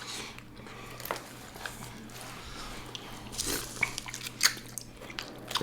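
Close, wet biting and chewing of garlic butter shrimp scampi, with soft crunches and smacking bursts at irregular intervals and occasional louder bites.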